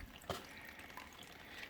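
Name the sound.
water draining from pipe into rubbish bag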